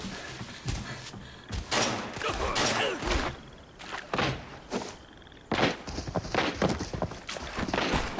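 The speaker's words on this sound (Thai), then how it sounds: "นี่เสียงปืนทุกคน" Rapid bursts of gunfire in the video game Arena Breakout, with thumping impacts and clanking, irregular and loud, in uneven clusters throughout.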